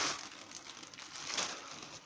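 A plastic package is torn open roughly by hand, giving a short close burst of crinkling and ripping plastic with no voices.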